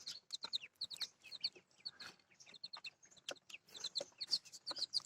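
Small chicks chirp in quick, high, thin peeps that come in bursts and short runs, soft and close, with no talking over them.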